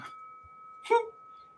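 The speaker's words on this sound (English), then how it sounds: "Is the bell new?" On a sports podcast, a small bell is struck once and gives a bright clang over a faint, steady ringing tone. Nobody speaks.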